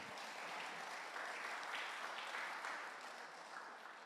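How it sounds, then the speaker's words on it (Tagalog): A church congregation applauds at a Filipino worship service, with dense, sustained clapping from many hands that holds steady and fairly close for the whole stretch. "Bigyan pa nga po natin isang papuring palakpak ang ating Panginoon."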